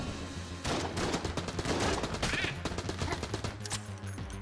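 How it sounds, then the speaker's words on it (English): Thompson submachine gun fires in Enter the Gungeon, a rapid run of sharp, close shots over about four seconds with a constant musical score underneath. "Oh, the Thompson submachine gun is quite nice."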